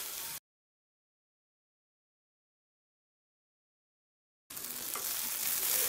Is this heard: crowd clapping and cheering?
no